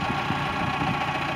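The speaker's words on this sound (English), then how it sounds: "Lift arms working." A 2014 Kubota M8560D tractor runs steadily while its hydraulic lift arms operate, giving a brief, even engine drone with no talk.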